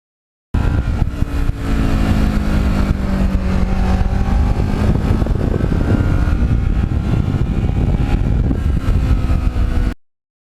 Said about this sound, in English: it's an uneven firing twin, and so it has a kind of a unique sound